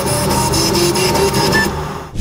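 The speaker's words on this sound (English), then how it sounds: "Let's go ahead and see how that sounds on the printer." 3D printer stepper motors driven to play a musical note give a loud, steady buzzing tone with a rhythmic mechanical pulse that stops just before the end.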